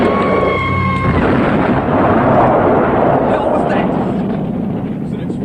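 A film explosion from the shark movie Cruel Jaws booms loud and close, then settles into a long rolling rumble that slowly fades.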